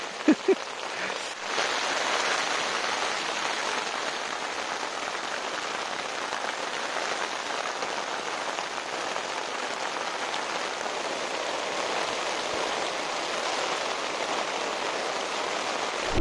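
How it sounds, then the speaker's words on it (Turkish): Steady heavy rain drums on a tent at a campsite near Istanbul, a dense, even patter that goes on unbroken with no talk over it. "Saatlerdir yağmur yağıyor."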